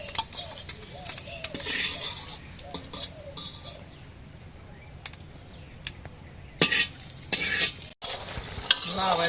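Eggs frying in a pan, cracked ones that could not be boiled, with a steady sizzle under repeated scraping and stirring strokes and a few sharper clatters near the end.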